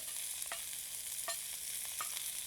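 Cabbage, mushroom, zucchini, lily bud, celery and carrot stir-fried in a wok, with a constant bright sizzle and a few quick scraping clicks of the spatula, close and steady with no talking.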